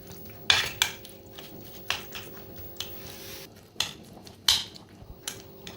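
A utensil clinking and scraping against a bowl while chopped ingredients with green chillies are mixed together, sharp irregular knocks repeating every second or so, close and without talk.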